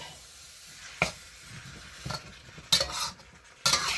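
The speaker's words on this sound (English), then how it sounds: "Now I'm just going to give this a good stir fry." A pan of food is stir-fried with a spatula, giving a low sizzle broken by a few sharp scraping clatters of utensil against pan spaced a second or so apart, with no one talking.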